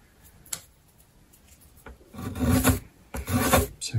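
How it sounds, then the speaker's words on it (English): A hand plane cuts a chamfer along the edge of a wooden guitar brace for a parlour guitar, giving a faint scrape followed by several loud, rasping strokes close by, with no talking. "I'm going to plane a chamfer on the what will be the long edge"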